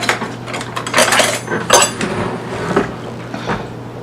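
A small knife scrapes and clinks against a liner-lined soap mold while lifting out a seven-color column swirl soap, giving a few close, light metallic scrapes and taps with no talk.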